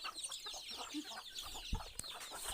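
Chickens clucking on a poultry farm, a quiet scatter of soft repeated clucks and calls from a few birds nearby, with a faint distant crow.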